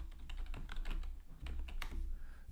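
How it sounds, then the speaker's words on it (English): Quick typing on a computer keyboard during a hockey livestream, a close, steady patter of key clicks with brief pauses and no talking. "I'm typing my email address"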